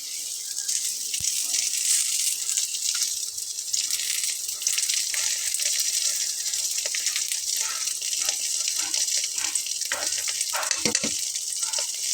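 A stuffed paratha fries in a little hot oil in a wok, producing a loud, dense sizzle that holds steady throughout, with a few clattering touches near the end.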